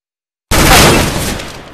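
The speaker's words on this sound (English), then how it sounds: "Deploying flashbang." A flashbang grenade goes off in a competitive video game match: one loud, sudden bang follows a short silence, then a broad hiss rings and slowly fades.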